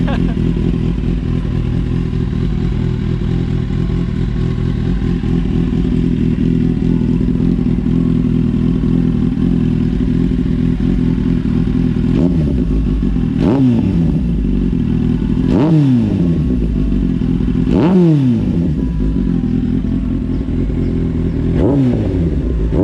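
A Kawasaki Z800 motorcycle engine idles with a loud rumble, then revs sharply several times in quick bursts, each rising and falling back.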